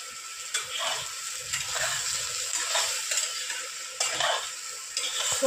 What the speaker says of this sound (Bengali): সোয়াবিনটা আর একটু ভাজা ভাজা করে আমি নামিয়ে নেব।